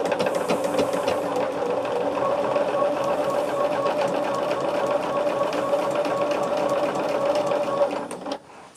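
A sewing machine stitching a pieced quilt test block runs in one steady, fast, even whirr for about eight seconds, then stops abruptly, loud and close with no voices.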